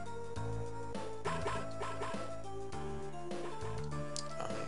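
Dog barking sound effect in the video game Mother 3, a short yipping woof set against layered game music that plays steadily throughout.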